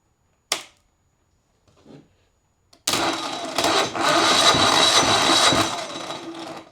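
A Yanmar L100 diesel engine with a faulty electric start is cranked by its starter after a couple of sharp clicks, then turns over in a loud, continuous churning burst that fades slightly toward the end.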